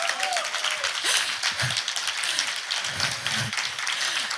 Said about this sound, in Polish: Sobie bijecie brawo.